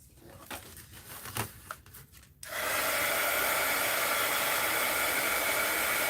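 Heat gun or hair dryer blowing steadily on wet paint in an art journal, a loud continuous broadband whoosh that starts abruptly partway through and holds to the end, after quieter rustling and handling sounds.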